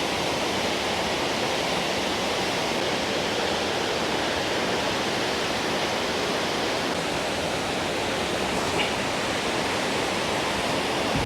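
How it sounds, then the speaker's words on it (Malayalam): Kattikkayam Waterfalls in Kottayam pours down in a loud, unbroken rush of water heard up close from the base of the falls, with no voices. "അങ്ങനെ നമ്മൾ വെള്ളച്ചാട്ടത്തിൻ്റെ നേരെ താഴെ എത്തിയിട്ടുണ്ട്."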